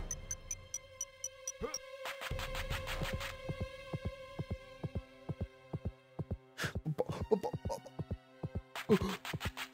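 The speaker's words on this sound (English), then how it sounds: "My heartbeat, you can hear it." A heartbeat in the Chicken Run video game: steady, rhythmic low thumps that repeat throughout, mixed with game music and effects.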